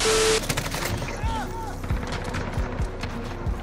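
Gunfire in Call of Duty, with short sharp shots scattered through the clip over a busy game background and occasional faint voices.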